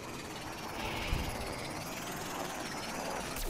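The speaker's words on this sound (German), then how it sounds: "Ich will jetzt noch in dem Garten eine Drohne starten." A drone takes off in the video game Plants vs Zombies Garden Warfare, giving a steady whirring, buzzing engine drone with a rising whine that holds at an even, moderate level throughout.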